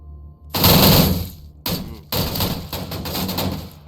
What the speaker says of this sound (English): Gunshots? Who's shooting here?